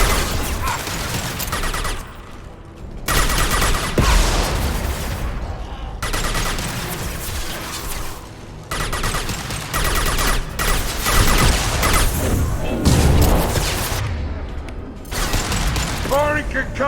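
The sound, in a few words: impact shot gunfire in video game Mass Effect 2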